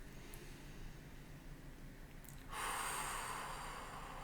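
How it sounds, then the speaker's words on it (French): A person exhales through the mouth while hollowing the belly during a sophrology relaxation session: a soft breathy rush that swells halfway through and sustains, faint and close, with no speech. "On va tout d'abord souffler par la bouche en creusant le ventre pour bien vider les poumons"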